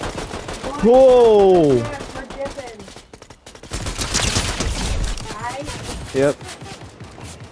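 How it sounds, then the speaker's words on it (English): Fortnite gunfire crackles in a dense burst midway through, layered among game sounds and an animated exclamation from players talking over it. "I already had someone shooting at me."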